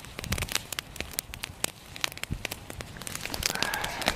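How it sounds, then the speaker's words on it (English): Water in a lidded pot reaches a hard boil, giving irregular crackling pops and bubbling bursts over a low rumble, moderately faint and close, with the bubbling growing denser toward the end. "I see that the water's boiling"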